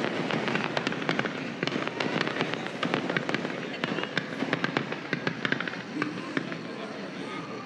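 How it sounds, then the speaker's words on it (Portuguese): Fireworks at Universal Studios crackle and pop in dense, rapid bursts from some distance. The bangs run continuously over an outdoor crowd murmur, with someone talking now and then. "Tá tendo mais fogos aqui, ó. Lá do Universal Studios."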